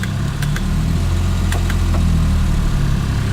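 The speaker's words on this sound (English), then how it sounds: "As the clutch is being released, the vehicle will start moving." Wireless van's engine runs steadily with a low, continuous hum as the clutch is let out, the tone holding constant under a faint mechanical vibration, a few brief clicks breaking through.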